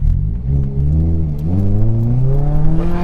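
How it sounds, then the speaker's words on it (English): A tuned 2022 Mazda MX-5 Miata ND2 four-cylinder with a lighter flywheel and track upgrades revs eagerly, its loud, close engine note climbing steadily in pitch over a steady rumble. "the rev-happy nature of this 4-cylinder engine as a result of that lighter weight flywheel"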